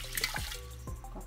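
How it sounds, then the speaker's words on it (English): A brief splash of water pours into a pot for an herbal thyroid remedy, with gurgling and dripping over about a second. "So, lagyan natin ng 2 glass of water."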